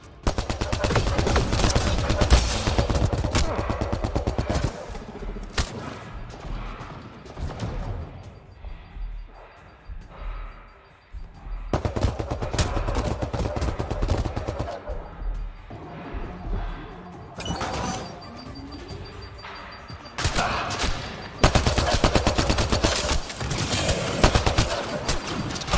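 Heavy sustained gunfire from a Mass Effect Andromeda firefight, long loud bursts of automatic weapons with crashes and impacts, easing into quieter stretches before surging again.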